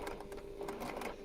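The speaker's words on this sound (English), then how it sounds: "So up to the sewing machine." A sewing machine stitches fabric in a short, steady burst of rapid mechanical clatter, close and fairly quiet with no talking over it.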